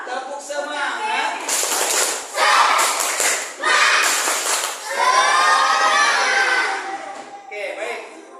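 A school class performs the tepuk semangat clapping chant, with bursts of rhythmic group clapping mixed with children's voices shouting and chanting together, loud and uneven, rising and falling in short waves.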